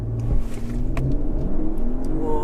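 A 2021 Mercedes-Benz GLE 450 4MATIC Coupé engine revs up under hard acceleration with a rising whine, gear tones climbing, close by with some road and wind noise.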